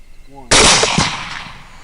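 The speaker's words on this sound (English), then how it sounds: "1 volley and all 3 hogs go down." A single loud, close rifle volley fired at hogs, a sharp blast that rings out and slowly decays; a brief voice is heard just before the shot.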